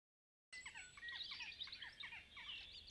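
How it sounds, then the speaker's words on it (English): Many small birds chirp and tweet busily in quick, overlapping bursts, fairly close, after a brief moment of silence at the start. "all I can hear is fucking birds chirping."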